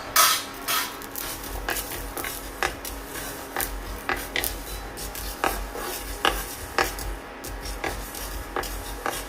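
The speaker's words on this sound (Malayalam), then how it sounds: "ചൂടായ പാനിലേക്ക് 1 ടീസ്പൂൺ കടുക് ചേർക്കാം" Mustard and fenugreek seeds roasting in a hot pan: irregular sharp ticks and clinks, like seeds popping or a spoon tapping the metal, scattered at close range over a faint hiss.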